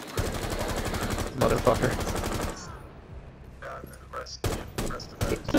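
Rapid automatic gunfire in a shooter video game, loud sustained bursts up front followed by scattered single shots and short volleys, with a man swearing over it.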